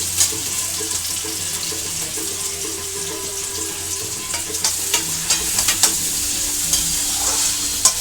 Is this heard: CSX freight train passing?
no